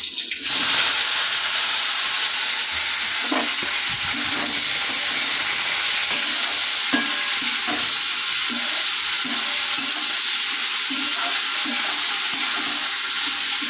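Steamed taro pieces fry in hot oil with a steady, loud, hissing sizzle that runs throughout, joined by a few soft low clunks and taps, heard close up with no voices.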